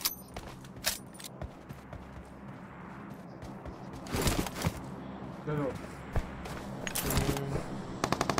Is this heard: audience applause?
no